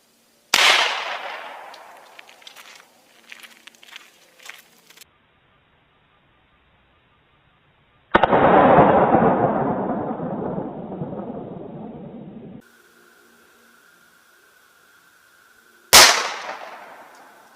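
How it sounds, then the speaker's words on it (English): Three 10mm pistol shots with Underwood 220 grain hard cast loads fired into plywood, each a loud sharp crack spaced several seconds apart, the middle one trailing a long rumbling echo. "now we're going to hit it with the Underwood 220 grain hard cast barrel load"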